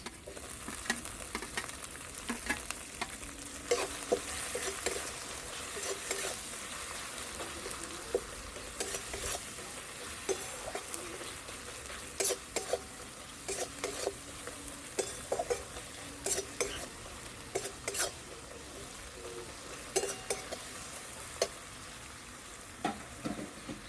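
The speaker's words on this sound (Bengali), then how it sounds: "তারপর দিয়ে দিচ্ছি কুচি রাখা কাঁচা লঙ্কা আর পেঁয়াজ" Chopped green chilies and onion fry in a pan for chicken ghugni, giving a steady close sizzle with frequent stirring scrapes and light utensil clicks throughout, and no talking.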